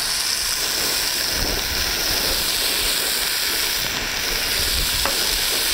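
Fat renders in a pot for red beans with a constant, bright sizzle and hiss, close and even in level, with faint stirring and no talk.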